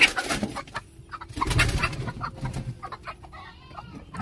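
A hen clucking nearby, loud and close, in a run of throaty clucks with a louder burst in the middle, with a farm setting around it.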